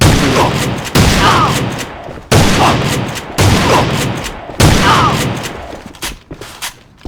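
Heavy automatic gunfire from the A.V.A first-person shooter, fired at an opponent's legs: several loud, dense bursts of roughly a second each, separated by short gaps, then tapering to scattered quieter shots.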